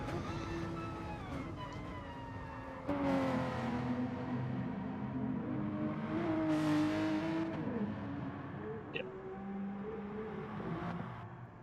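Racing cars in a sim racing league race drone and rev, with engine pitch climbing and dropping through gear shifts as cars jostle for an overtake down the straight, a steady mid-distance roar with no talk.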